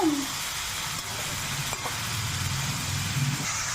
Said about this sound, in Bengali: মশলার সাথে লাউটা ভালো করে কষিয়ে নেবো লাউগুলো